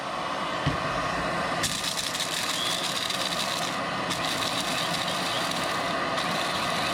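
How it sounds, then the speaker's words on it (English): An electric grinder whirs through foraged wild native Adirondack coffee beans, a loud, steady close motor roar that shifts slightly in pitch a few times across the stretch. "Put the grinder on there like this. Put the top on."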